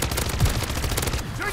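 A short, dense burst of rapid submachine gun fire from the video game MW3 Zombies, loud and continuous, with no voice.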